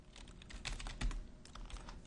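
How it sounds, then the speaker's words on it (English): Rapid, steady typing on a computer keyboard, a close run of quiet keystrokes with a few slightly louder taps, no voices. "alt click, and we're going to type wiggle"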